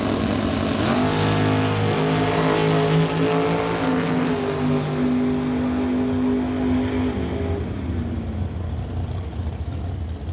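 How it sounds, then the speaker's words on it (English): A dragster launches and roars down a drag strip at the West Coast Classic in Mission, BC, its engine blaring loud and close for several seconds before the note drops off as it passes into the distance. "Dragster in the right lane"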